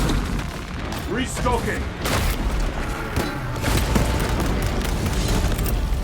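Frag grenade blasts and gunfire in the game Warhammer 40k: Space Marine 2, heavy booms and bursts under a voice calling out in combat.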